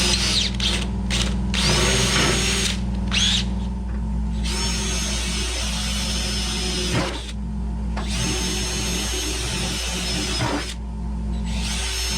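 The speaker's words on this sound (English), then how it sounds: "I'm going to drill through the flange on the quarter panel" A power drill whines loudly and continuously, bursts of grinding through the metal quarter-panel flange of a 1969 Mach 1 Cobra Jet, with brief pauses and revs, close up and with no voices.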